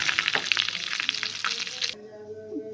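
Melted butter for baklava sizzles and crackles in a pan, a close, busy hiss for about two seconds before cutting off abruptly to quiet.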